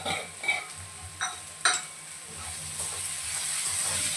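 Onion softening with salt sizzles quietly in a pan while a spoon stirs it, three or four distinct scraping clinks against the metal early on, then a steady low hiss with no voices.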